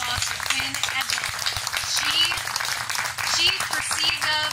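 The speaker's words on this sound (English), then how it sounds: "A big round of applause for Quinn Edgell." Audience applause at a dinner event honoring the decorator of the space, steady clapping from a group with a voice talking over it.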